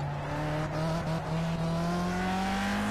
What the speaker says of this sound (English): Feels like you're racing in a Grand Prix car in the 1960s